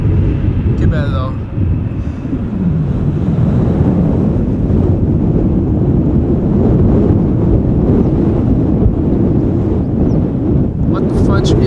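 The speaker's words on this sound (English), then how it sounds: "What the fudge is the wind doing? Feels like it's getting worse here." Strong wind at Schiphol Airport buffeting the microphone, a loud, continuous low roar and rumble that barely lets up, with a brief voice-like sound near the start.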